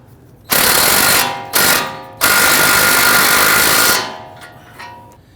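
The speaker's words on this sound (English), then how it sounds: "Using a 21mm socket, let's go ahead and snug down our tie rod end nut." A power tool with a 21mm socket snugs down a tie rod end nut on a 2011–2023 Dodge Charger steering rack. It gives three loud, close, rattling impact bursts of about a second or more each, separated by brief pauses.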